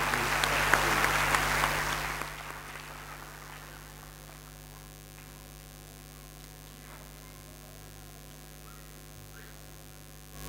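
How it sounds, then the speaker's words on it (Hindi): Applause greeting a speaker at a Dhamma Day gathering in Delhi NCR, loud and dense for about two seconds, then cutting off into a low room hum with faint mains buzz. "स्वागत करें इनका जोरदार तालियों के साथ"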